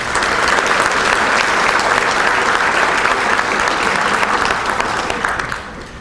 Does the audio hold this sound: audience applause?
yes